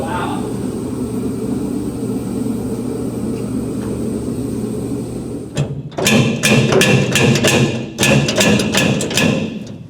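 A stuck nut on an old truck being restored breaks loose with a series of sharp metallic bangs and thuds in the second half, following several seconds of steady loud heater drone in the background.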